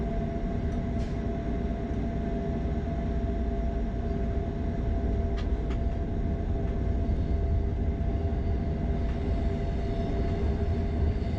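Flåm Railway train rolling steadily toward Myrdal station, a loud continuous rumble and hum heard from on board, with faint clicks and squeals now and then and no voices.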